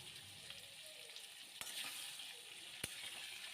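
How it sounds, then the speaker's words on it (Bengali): Potatoes for a vegetarian Kolkata-style aloo dum fry in hot oil, a soft continuous sizzle with two sharp pops and light stirring clatter, no talking. "এবার এগুলোকে আমি ছেড়ে দিচ্ছি তেলের মধ্যে ভাজার জন্য"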